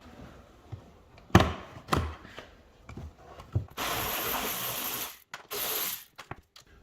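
Bolts being undone under a crash-damaged Porsche 718 Boxster S ring out as scattered ratcheting clicks and metallic knocks, with a couple of longer, steady bursts of tool noise, fairly close and moderately loud.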